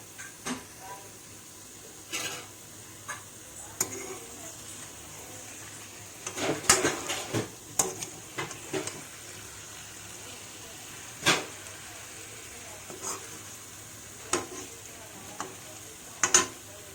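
Eggplant curry cooks covered in a pan over medium heat, giving a faint low sizzle under scattered clinks and scrapes of stirring.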